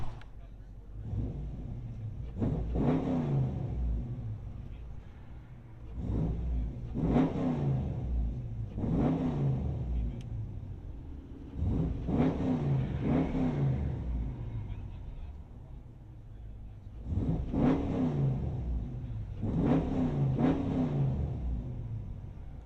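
Dodge Challenger Shaker 2021 with 5.7L HEMI V8, headers and Flowmaster Super 10 exhaust, heard from inside the car: repeated revs rise and fall in deep rumbling bursts, about five in a row, with pauses of lower idle between.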